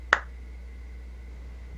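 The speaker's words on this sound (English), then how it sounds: "Did you really just clap?" A single sharp hand clap rings out once during a live gaming news show, brief and fairly close, followed only by a low steady hum.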